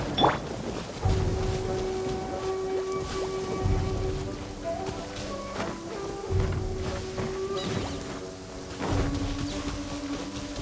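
Steady rain hisses through a scene in the video game Genshin Impact, continuing throughout under game music and occasional thumping battle effects.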